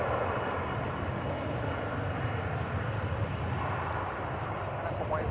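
A Boeing 787-9 in from Sydney on the runway at DFW airport, with a broad, steady jet engine roar heard at a distance and a voice talking faintly underneath.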